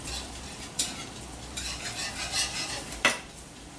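Black pepper being stirred into a bacon mixture in a pan: a soft frying sizzle runs throughout, with a few sharp utensil scrapes and clinks against the pan, no talking.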